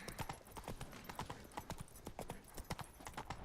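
Roach, the horse in The Witcher 3, gallops with rapid, rhythmic hoofbeats, close and quick, the clip-clop driving steadily forward with a faint whinny-like touch.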